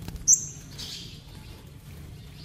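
A sunbird from a group kept in captivity for a month gives a single short, high chirp near the start, then only faint background hum remains.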